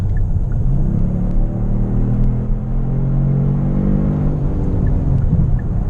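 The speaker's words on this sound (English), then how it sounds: "You can hear a little bit different of an exhaust sound" Exhaust of a 2022 Kia Stinger GT2 in Sport mode under acceleration, a steady loud low rumble with a droning engine tone running throughout, heard from inside the car with no talking.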